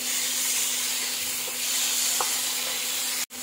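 Chopped tomatoes and chillies frying and being stirred in a pan, with a steady loud sizzle and occasional faint stirring scrapes before an abrupt cut.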